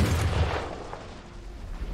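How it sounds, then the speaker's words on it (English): Battle din from the video game Iron Harvest: weighty explosions and gunfire rolling together into a dense, continuous, bass-heavy rumble with no clear gaps between blasts. "Explosions and gunfire are pretty weighty and have decent bass"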